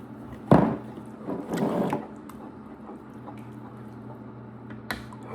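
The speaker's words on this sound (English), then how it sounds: "Okay, so we're going to give it a stir." A thick macaroni and cheese mixture is stirred, giving a wet squelch at first and then a longer, softer squishing sweep. Quieter kitchen sounds follow, and nobody talks.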